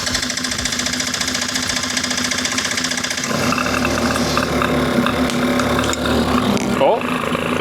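Small engine of a mini police car running after air screw adjustment, a busy rattling idle with a steady hum that shifts to a rougher, louder chug partway through.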